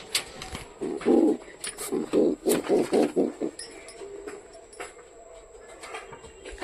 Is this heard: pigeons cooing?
yes